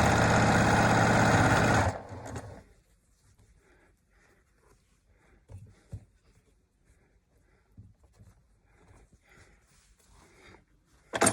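A sewing machine stitches face mask fabric with a loud, steady whirring hum for about two seconds, then stops, leaving only faint handling and rustling sounds.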